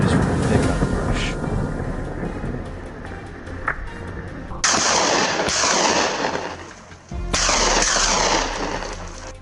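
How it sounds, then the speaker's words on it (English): Several sharp, loud hunting rifle gunshots crack out with gaps between them, each leaving a brief rumbling echo over outdoor background noise during a wild boar hunt. "Just minutes later, a gunshot rings out from James' position"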